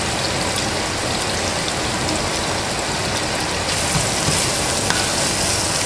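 Habanero peppers with hot dog, thyme and Haitian spice sautéing in a pan, a loud, dense, rain-like sizzle that stays steady and close throughout.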